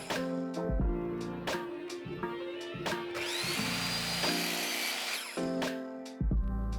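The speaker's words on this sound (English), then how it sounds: "I need to trim down the spindles so that they're all the same height." A power tool trims wooden spindles from scrap wood, running in several short bursts and then a longer sustained cut with a rising whine, with clunks of the wood being handled between passes.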